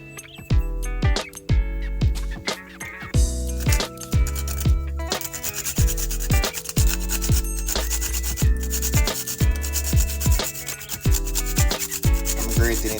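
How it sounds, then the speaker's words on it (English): Whole nutmeg scraped on a hand grater for sweet potato pudding, a brisk, regular rasping rhythm of short strokes, close and fairly loud throughout. "So let's grate the nutmeg and get it all in."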